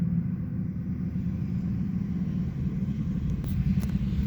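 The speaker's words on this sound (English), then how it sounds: "Playing with this rather large remote control car." A large remote control car drives downhill outdoors with a steady low rumbling motor that continues throughout, heard from a moderate distance without speech.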